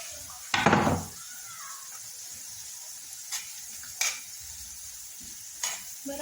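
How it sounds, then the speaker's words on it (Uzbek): Bell pepper and garlic fry over meat in a pan, with a loud scraping stir up front, then a soft sizzle broken by a few sharp utensil knocks. "Bolgarni ustiga maydalangan chesnok solib olamiz."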